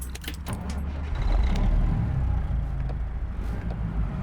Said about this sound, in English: All right, let's spark it up.